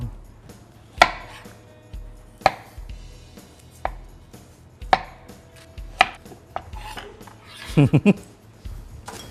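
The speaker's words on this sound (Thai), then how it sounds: "แล้วผมจะซอยขิงก่อน" A knife slices ginger into thin strips on a cutting board for Thai northern-style braised pork curry, giving about six crisp, close chops spaced a second or so apart, then a quick cluster of cuts near the end.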